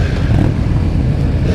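Yamaha R1 sport motorcycle with stock exhaust accelerating, a loud close engine roar that stays full and steady through the short burst.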